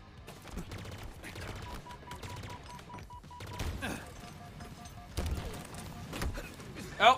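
Battle rifle gunfire in a Halo match: bursts of shots rattling at mid distance, fairly quiet, mixed with other game noises and thumps, with people talking over it.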